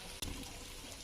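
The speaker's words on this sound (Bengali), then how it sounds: "পানি দিয়ে দিলাম।" Water poured into a pot of ground spices for Bangladeshi beef curry: cumin, garam masala paste, turmeric, chili and coriander powder, making a brief splash and steady trickle after a short gap, close and alone.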